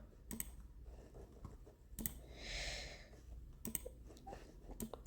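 Typing on a computer keyboard in a quiet room, sparse clicks and clustered keystrokes near the mic with a short soft breath or rustle in the middle.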